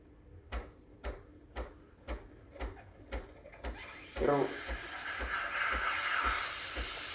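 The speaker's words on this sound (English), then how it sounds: "I'm going to turn on the steam. It'll take about 15 seconds to start giving steam output." A Breville Barista Express BES870 espresso machine ticks rhythmically as it warms up, then its steam wand bursts into a loud, steady hiss that continues to the end.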